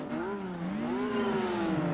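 Honda NSX race car in Gran Turismo 4 accelerating hard, its engine note sweeping upward in pitch and staying loud and close through a short burst of sustained revving, with no talking over it.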